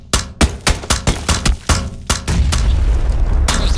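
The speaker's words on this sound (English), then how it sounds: "So I throw that nade, so he has to either come down or die to that nade." Rapid booming blasts from a video game grenade, a quick train of loud explosive bursts followed by a sustained rumbling roar.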